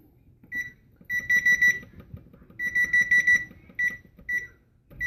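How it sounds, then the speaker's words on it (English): A kitchen timer being set for baking granola bars, giving bursts of rapid high electronic beeps and single chirps as buttons are pressed, fairly faint over quiet kitchen background noise. "We're going to set the timer."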